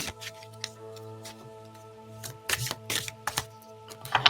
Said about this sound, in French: on va tirer une carte de l'oracle de Disney pour venir terminer ce tirage de la semaine.